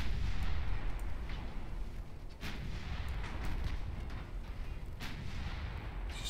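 Naval artillery gunfire in the warship game Ultimate Admiral Dreadnoughts: a steady rumbling battle din with several sharp booming shots, the loudest at about two and a half and five seconds, with no talk.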